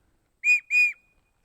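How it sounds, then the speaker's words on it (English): Two loud, sharp blasts from a plastic survival-tool whistle with a glued-in ferro rod, each about a quarter second long, sounding close to the microphone with a short gap between them and nothing else around. "You have a really strong whistle."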